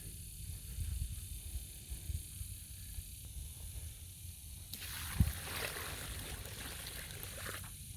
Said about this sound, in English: I'm going to saturate this with water